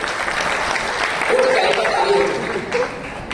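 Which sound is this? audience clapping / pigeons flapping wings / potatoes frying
audience clapping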